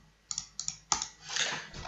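Keystrokes on a computer keyboard while writing C# code in Visual Studio 2019, a few quick separate clicks followed by a denser run of typing, close and fairly quiet with no talking.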